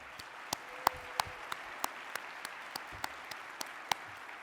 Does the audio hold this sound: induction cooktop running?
no